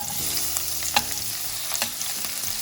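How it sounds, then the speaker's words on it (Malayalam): Finely chopped onions sauté in hot oil in the same pan used for earlier frying, a steady loud sizzle with occasional spatula scrapes, close up and with no voices. "എന്നിട്ട് നമുക്ക് ഈ പാത്രത്തിൽ ഉള്ളിയിട്ട് വഴറ്റാം"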